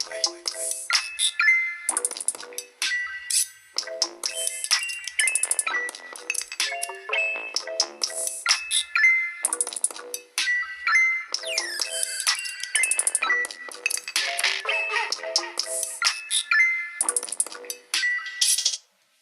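A ringtone played at full volume through the loudspeaker of a Realme C3 phone: a bright, tinkling melody of chiming, bell-like notes in repeating phrases, clear and close, alone with no talking.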